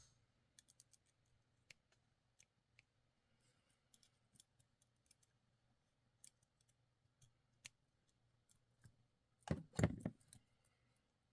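Small scissors give quiet, sparse snips while cutting threads that hold beads on junk jewelry. The snips are scattered close by in near silence, with a louder rustle of handling near the end.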